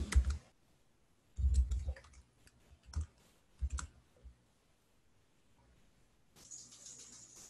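Computer keys are pressed for a Shift+Enter command in Google Colab, heard as a few sparse, close, crisp clicks separated by quiet pauses, with no voice.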